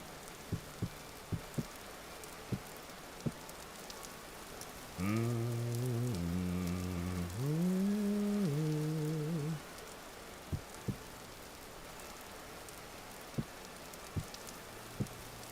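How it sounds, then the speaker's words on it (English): Rain in the video game Vintage Story, a steady soft patter with sharp scattered drip ticks, interrupted midway by a few seconds of hummed tones. "I just want to get rid of this rain sound out here."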